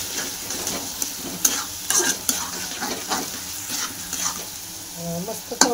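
A paste of tomato, coconut, garlic and coriander fries in hot oil, sizzling steadily up close while a spoon repeatedly scrapes and clinks against the pan.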